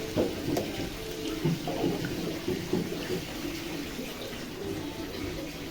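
Water is poured into a pot of chicken curry during cooking, a continuous splashing pour with sizzling and rustling underneath, steady and fairly close throughout.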